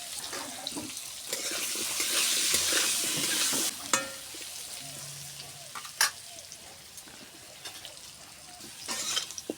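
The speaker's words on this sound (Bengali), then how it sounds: "দেখো, আলুগুলোকে নেড়ে চেড়ে ভেজে নিয়েছি।" Potatoes with turmeric and salt frying in a pan while being stirred, a loud close sizzle for the first few seconds that drops to quieter hissing, broken by sharp spoon knocks and scraping.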